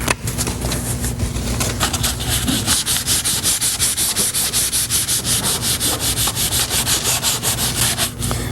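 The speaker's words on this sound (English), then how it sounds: "I'm using this as a pad so that we don't get any finger marks as we're sanding." Hand sanding auto body panel with sandpaper wrapped over a sponge pad, a steady rhythmic back-and-forth scratching, close and continuous with no talk.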